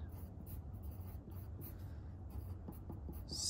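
Pen or pencil writing numbers by hand on paper, a faint, close scratching of quick short strokes against a low background hum, with no talking.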